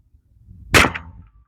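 A metal 3D printed blaster fires a bamboo dart, making one sharp, close crack-like snap with a short ringing tail.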